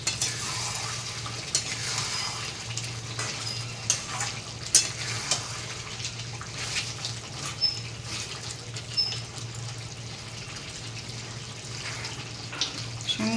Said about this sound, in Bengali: আগুনটাকে বাড়িয়ে নিয়ে কষবো